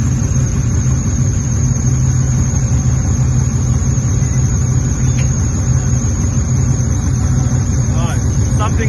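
A rear-mounted 2-liter engine on a vehicle runs steadily and close by, a constant low drone with a hum that does not change throughout.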